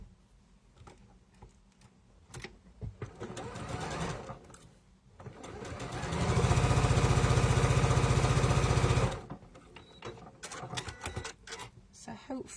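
Sewing machine stitching quilt block pieces for a sampler quilt: short stop-start runs of whirring stitching around a steady, loud three-second run at close range, with a person talking between the runs.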